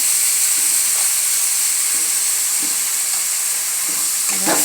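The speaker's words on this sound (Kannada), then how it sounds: "ಇವಾಗ ಬದನೆಕಾಯಿ ಹಾಕ್ತಾ ಇದ್ದೇನೆ ಫ್ರೆಂಡ್ಸ್" Brinjal frying in a pan with turmeric for a Hubballi-style palya gives a loud, steady hiss and sizzle, with a few faint stirring knocks and a louder clatter near the end, and no talking.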